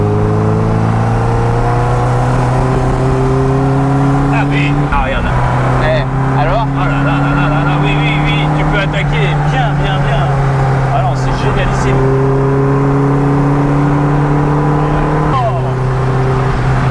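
Mini Cooper Innocenti 1300 engine droning steadily from inside the car while driving, pitch stepping up through gears with brief shifts, loud and continuous under ongoing conversation.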